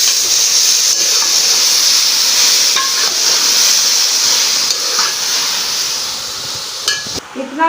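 Garlic-ginger paste and mashed tomatoes frying in a pan, a loud steady sizzle and hiss with occasional light utensil taps, fading slightly before a brief clatter at the end.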